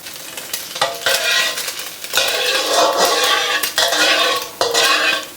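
Loud crackling and sizzling as beaten egg for a basil omelette hits hot oil, with bursts of spattering and a clink of utensils against the pan.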